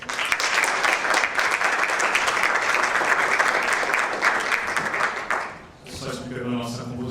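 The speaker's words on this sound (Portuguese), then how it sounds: "Por favor, uma salva de palmas." An audience applauds steadily at a Brazil Conference session at Harvard and MIT on public-sector innovation, welcoming a speaker to the stage. The clapping fades out near the end, and a voice then begins talking over a quieter room.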